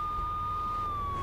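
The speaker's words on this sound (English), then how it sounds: "Pulling up in a car with the siren blaring." A car siren in GTA 3 wails as one steady, slowly falling electronic tone over a low engine rumble, loud and continuous.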